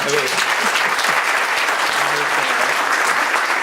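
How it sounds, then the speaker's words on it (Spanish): A crowd applauds the speaker Javier Segura after his talk on educational experiences, a dense burst of clapping throughout with a few faint voices mixed in underneath. "Un fuerte aplauso a Javier, muchas gracias por su presentación"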